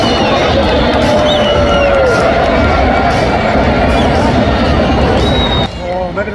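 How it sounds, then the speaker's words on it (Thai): Uzbekistan fans roar and cheer in a packed Asian Cup stadium at Al Janoub after a 2-1 win over Thailand, a loud, dense crowd din with whoops and whistles close by that lasts the whole time. "กองเชียร์อุซเบย์ก็ได้เฮดังๆเลยครับ"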